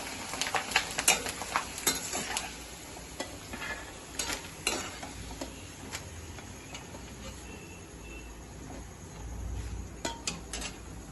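Potato peel chips frying in hot ghee, a steady soft sizzle with scattered crackles and a few stirring clinks of a utensil, close and alone with no voices.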